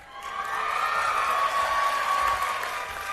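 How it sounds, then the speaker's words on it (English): An audience at a 2023 pharmacy school commencement ceremony breaks into steady, full applause, a wash of many hands that swells slightly and holds for a few seconds. "Please hold your applause until all names have been called."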